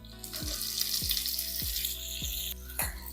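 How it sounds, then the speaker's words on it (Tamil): Fenugreek, asafoetida and curry leaves sizzle in hot oil for an okra tamarind curry, a bright, steady hiss broken by about five regular low knocks, with a fresh burst of sizzling near the end. "இதெல்லாமே வந்து நல்லா பொரியணும்னு கூட அவசியம் இல்லை லேசாக வறுத்தோம்னா போதும்"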